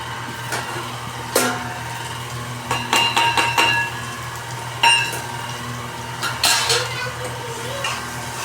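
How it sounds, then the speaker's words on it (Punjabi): Okra stirred in a pan with salt, turmeric, garam masala and chaat masala, with several distinct metal spoon scrapes and clanks against the pan over a low background sizzle. "ਤੇ ਆਪਾਂ ਹੁਣ ਭਿੰਡੀ ਨੂੰ ਹਿਲਾ ਦਾਂਗੇ ਚੰਗੀ ਤਰ੍ਹਾਂ"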